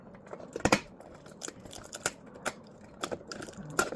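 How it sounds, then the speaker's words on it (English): Scissors snipping through Easter basket grass: a series of crisp, close cuts at an irregular pace, about ten snips with one louder crunch early on, no talking. "just take the scissors and kind of like cut it"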